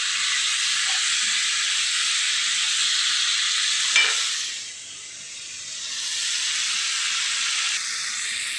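Beef frying with curry leaves in a pan gives off a loud, continuous close sizzle and hiss while being stirred. One brief knock comes midway, then the sizzle dips and swells back.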